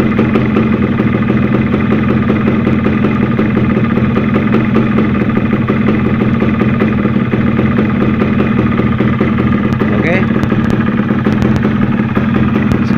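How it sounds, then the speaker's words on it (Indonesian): A Yamaha F1ZR motorcycle engine idles steadily after carburetor air-screw tuning, a close, loud, even two-stroke putter with a light mechanical clatter throughout and no voices. "kita kecilkan gas sampai mendapatkan stasioner"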